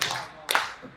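Brief bursts of clapping from a live audience at a Hindi comic poetry recital, three short ragged rounds a half-second apart, moderately loud and close with no speech over them.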